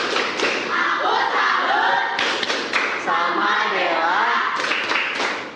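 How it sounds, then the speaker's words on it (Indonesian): Schoolchildren in a classroom give a rhythmic clapping salute cheer, a patterned group clap with shouted chant, loud and close, mixed with young voices. "Oke, kita berikan tepuk salut untuk Dela."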